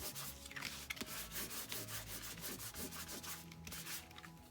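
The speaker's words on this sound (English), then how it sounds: "now wipe away any of the ink that's covering the embossing" Embossed paper is wiped to remove ink during leaf-background stamping, a very faint, close rhythmic rubbing and scrubbing with no talk.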